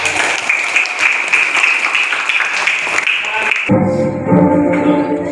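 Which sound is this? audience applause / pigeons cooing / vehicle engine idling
audience applause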